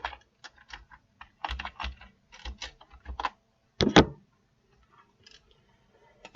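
Code being typed on a computer keyboard for a Unity mobile hunting game, heard as quick, close key clicks in short irregular bursts with a louder clatter partway through, then mostly quiet.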